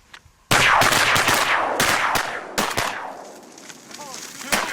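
Several loud, sharp shotgun blasts ring out in quick succession on a duck hunt, each cracking then echoing away, followed by scattered later shots and faint voices.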